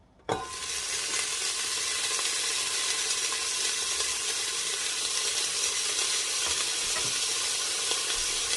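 About 100 grams of chopped leek hits heated oil in a pan for potato-leek soup, bursting into a loud, steady sizzle that holds evenly from the first moment to the end, with no talking.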